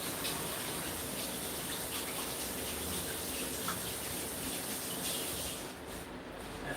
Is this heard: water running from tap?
yes